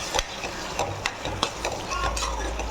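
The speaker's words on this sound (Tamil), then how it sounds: "போட்டு எல்லாத்தையும் வதக்கிக்கணும்." Spices and masala being sautéed in a pan for prawn dum biryani, with a spoon stirring and scraping in short, irregular strokes over a steady, close frying sizzle.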